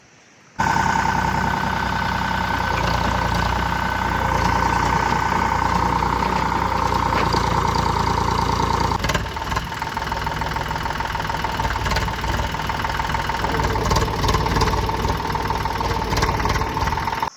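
A tractor engine runs steadily at idle on a farm, a loud continuous chugging drone that starts abruptly and holds for the whole stretch.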